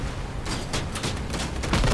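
Gunfire in the vehicle combat game Crossout: a rapid burst of sharp machine-gun shots in quick succession, moderately loud with a rumbling engine bed beneath.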